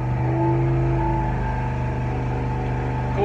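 A car engine drones steadily on a dynamometer during an oil temperature test comparing 20W-50 semi-synthetic and 10W-40 synthetic oils, a loud, close, sustained hum with strong harmonic tones holding level pitch throughout.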